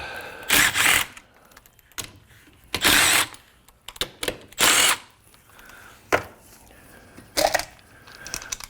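A power tool whirs in short bursts of varying length, loosening the three 8mm fasteners on the distributor cap of a 2000 Acura Integra, close by, with clicks and rattles between the runs.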